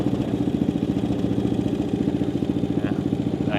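A used Massimo Mini Jeep's small engine runs close by at a steady idle, a rapid, even pulsing chug with a light mechanical clatter, heard alone.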